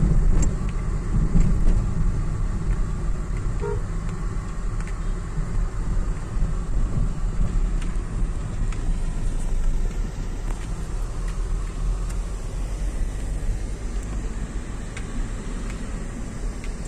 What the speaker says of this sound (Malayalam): ഇതാണ് ഗൈസ് ഇവിടുത്തെ ട്രാഫിക്